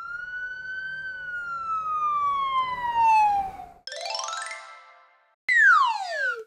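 A cartoon police car siren in a kids' animation sounds first as a long descending wail, then rising and falling electronic sweeps, loud and clear with brief gaps between the bursts.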